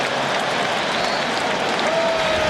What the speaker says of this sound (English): The crowd is charged and flags are thrown.